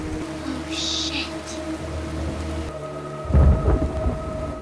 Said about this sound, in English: as the rain intensified